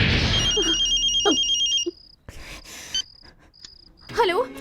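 A telephone ringtone in a dubbed action movie scene, an electronic trilling ring repeating a few times close by with a voice briefly heard near the end.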